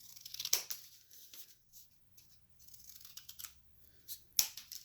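Scissors snip through material while a Father's Day gift basket is assembled, with two sharp, close cuts at the start and end and soft rustling and handling in between, fairly quiet overall.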